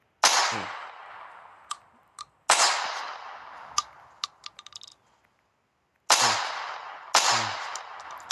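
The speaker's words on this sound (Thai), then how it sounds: "อันนี้ผมขอทดลองหนึ่งกระบอกก่อนนะ ยิงตอนแรกเนี่ยผมพลาด" A modded gun in a video game fires four sharp, loud shots that ring out and fade, with quick mechanical clicks between the bursts and no talking.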